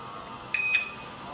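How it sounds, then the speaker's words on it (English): A wireless GSM alarm padlock being activated sounds a short, sharp electronic beep once, high-pitched and clear, followed by a quick second chirp against a quiet background. "So when I activate this alarm padlock by pressing the black button"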